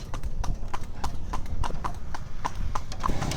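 Steady, rhythmic clip-clop of horse hooves on a hard road, close and continuous, with a rumbling low background of a horse cart rolling along in Myanmar.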